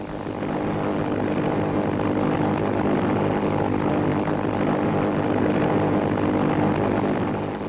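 WWII Japanese warplanes fly over in formation, a steady, loud, droning propeller engine roar that holds constant throughout with no break and no voices.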